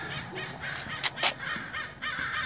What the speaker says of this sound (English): We've got all these crows going.